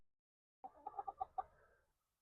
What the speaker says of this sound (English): it looks like our chicken babies are out